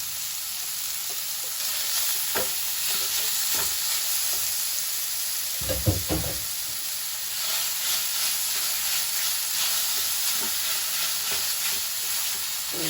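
Steady close sizzle of frying in a pan, with a few clinks and scrapes of stirring and one louder knock near the middle, and no talk.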